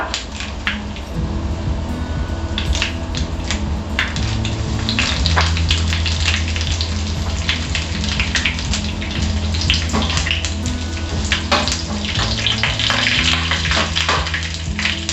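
Mustard seeds, curry leaves and dried red chillies spluttering in hot coconut oil and ghee for a Kerala erissery: steady dense crackling and popping, loud and close, with a low hum beneath, running continuously without talk.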